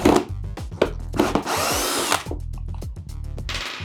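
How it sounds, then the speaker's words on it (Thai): Power drill whirring in repeated short bursts as it backs out the four mounting bolts of a subwoofer box in a BYD Sealion 6 electric car, loud and close with brief pauses between runs and no talk. "เดี๋ยวผมการถอด น็อตยึดก่อนนะมีทั้งหมดด้วยกัน 4 ตัวนะครับ"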